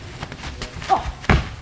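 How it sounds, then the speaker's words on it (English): Heavy thuds in a professional wrestling match as a wrestler is knocked down by punches, with a sharp impact near the end, loud and close amid crowd and ring noise. "Three knocks down Aaron."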